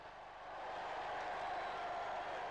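Crowds of the public applaud the Queen and Prince Philip during a royal visit, a broad distant wash of clapping that swells in over the first half second and then holds steady, soft and far off.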